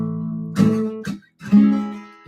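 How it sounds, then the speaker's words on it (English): Beginner barre chords on an acoustic guitar, a few short strums that buzz and die out quickly instead of ringing, with choppy gaps and one chord briefly sustained. "But anything with a bar chord, when you're first starting, is a total challenge. And they're going to sound like this."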